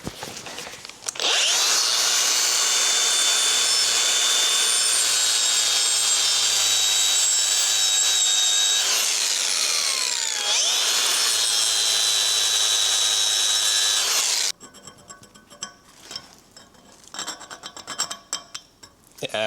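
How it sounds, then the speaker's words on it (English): An angle grinder grinds a crack out of a steel steam engine eccentric, a loud steady whine running for about thirteen seconds with a brief dip midway, then stopping abruptly before lighter clattering handling noises. "I'm still going to grind that little crack out that I can actually see with my eyes"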